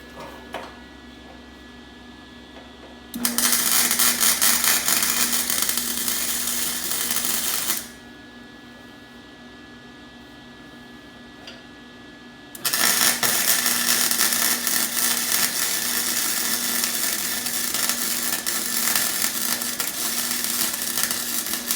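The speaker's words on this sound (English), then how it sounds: "Ain't a pretty weld." Welding on a Honda battery relocation kit bracket: two long bursts of steady, loud crackling buzz, about five and nine seconds, separated by a quieter pause, close up with no talk.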